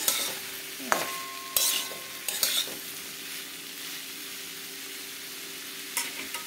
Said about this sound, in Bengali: এবার আমি গ্যাসটা কমিয়ে দিয়ে আমি এটাকে ভাজবো। আমি ঝিঙেটা দিয়ে দিয়েছি।